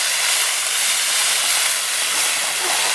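Steady, loud broadband sizzling hiss fills the whole clip as peppers are stir-fried hard in a hot pan, with no talking.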